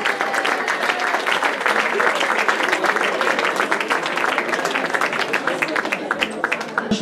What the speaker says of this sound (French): on applaudit très fort les organisateurs qui nous font voyager dans ce beau territoire